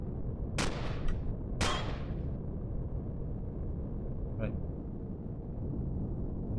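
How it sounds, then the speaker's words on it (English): Gunfire in the Empyrion Galactic Survival space game aboard a derelict ship: two sharp, loud shots about a second apart with a fainter crack later, over a steady low background rumble. "Someone's firing at us."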